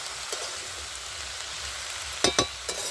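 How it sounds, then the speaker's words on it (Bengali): A cauliflower stalk curry sizzles steadily in a pan, with a few sharp scraping stir strokes near the end, close and moderately loud. "সবজিটা আমার মজে গেছে কিনা তো ভালো করে আমি নেড়ে চড়ে"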